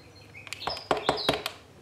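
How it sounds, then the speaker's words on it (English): A small bird chirps in short, high tweets, fairly faint, mixed with a few soft clicks and taps nearby. "Can you hear that little bird? He's sitting on my windowsill, singing to me."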